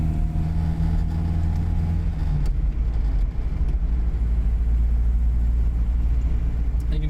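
A 1971 Vauxhall Firenza driving along, its engine giving a steady, close low rumble with road noise throughout and no voices.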